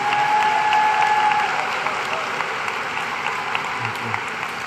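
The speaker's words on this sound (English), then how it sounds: "Can we please give our graduates a round of applause for all of their accomplishments?" Sustained audience applause honoring graduates at a class of 2021 graduation and awards banquet, a dense, steady wash of clapping that stays loud throughout with a faint tone near the start.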